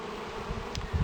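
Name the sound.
honeybees buzzing at a top bar hive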